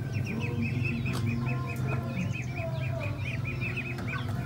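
Leonidas, a grey crossbred rooster of BK and koi bloodlines, clucks and calls in a coop, with repeated short bird calls ringing close over steady background chatter of other fowl.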